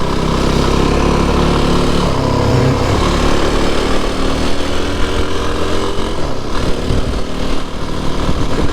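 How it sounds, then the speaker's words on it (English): Motorbikes on a hazy morning country road, engine noise loud and steady throughout, with a rise and fall as machines pass nearby, no talk. "A few motorbikes out this morning."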